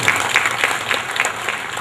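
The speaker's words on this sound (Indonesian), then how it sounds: "untuk tepuk tangan buat Pak Ferry." Audience clapping at a mall grand opening in Banyuwangi, a short burst of brisk applause from a crowd, fairly close and steady.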